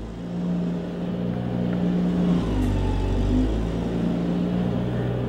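A tractor clearing snow off a deck, its engine a steady, fairly loud low rumble that swells and revs slightly as it pushes, with no talking.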